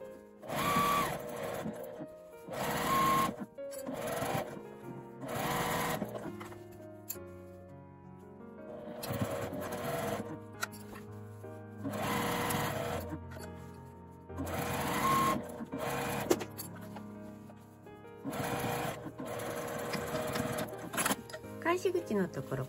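A sewing machine stitches a 1 cm seam on an A4 tote bag with a pocket, running in repeated bursts of fast mechanical whirring separated by short pauses, with a voice speaking in between the runs.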